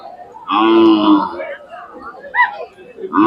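A Khillar cow moos loudly and close at a crowded cattle market in Sangola, Maharashtra, one long low call followed by shorter calls, with people chattering in the background.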